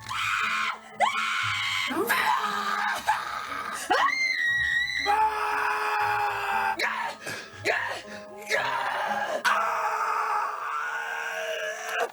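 A scream artist voices a series of creature screams and guttural growls, loud, strained, close-up vocal bursts with brief pauses between them, a human voice imitating a monster.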